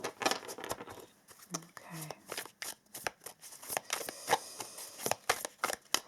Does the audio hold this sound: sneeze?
no